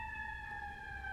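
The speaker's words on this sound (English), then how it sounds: "We gotta hold for the sirens" An emergency vehicle siren passing by, loud and close, holding a steady high wail throughout with a low rumble of traffic underneath and no voices.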